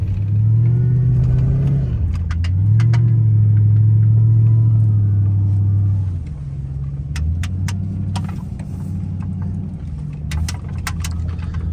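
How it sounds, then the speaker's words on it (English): A truck in four-wheel-drive low gear climbs a hill, its engine droning loud and close with a deep, steady rumble. Pitch rises and dips as it strains, then the load eases into a lower idle with scattered clanks and rattles. "we're gonna throw this truck into four low. We're gonna make it up this hill"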